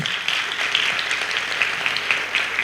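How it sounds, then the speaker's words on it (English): An audience at a church session claps for Melvin, a brief burst of brisk, fairly loud applause with individual hand claps standing out. "Please give a big applause to Melvin."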